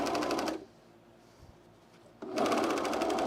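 A sewing machine stitches Sequoia cargo pants in two loud, close rapid bursts separated by a quiet pause, its fast even needle rhythm clear and unaccompanied by speech.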